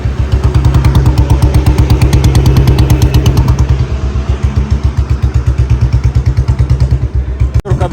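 A Royal Enfield Bullet BS6 motorcycle on a test ride thumps loud and steady in a rapid, even single-cylinder beat close by, with no break across the whole stretch.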